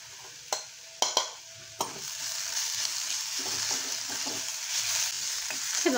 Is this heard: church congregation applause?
no